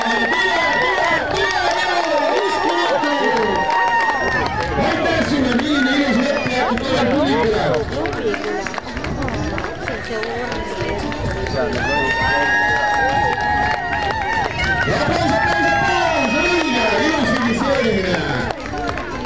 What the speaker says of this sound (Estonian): Võtame temale suure aplausiga vastu.